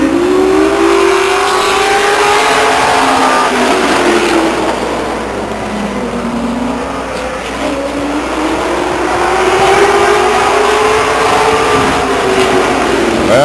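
Pro Stock race cars with 2-barrel carburetors and 9-inch Ford rear ends circle Stockton 99 Speedway, a continuous loud roar of engines rising and falling as the pack passes, close and steady for the whole stretch.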